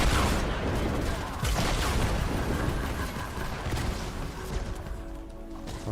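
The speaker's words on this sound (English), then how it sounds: "I love the sound that the cannon corn LMG makes." Cannon corn LMG firing in Fortnite Save the World, a sustained, dense burst of rapid mechanical shots heard continuously and close up over the whole stretch.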